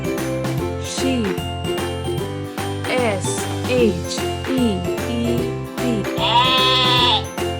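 A sheep bleats several times in short wavering calls over a light musical bed with tinkling chimes, with a longer, louder bleat near the end.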